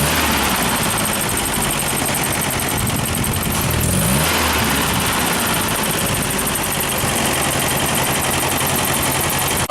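A 1964 Land Rover engine runs loudly and continuously at close range after ignition timing adjustments, a dense, rough mechanical drone with a brief shift in tone partway through.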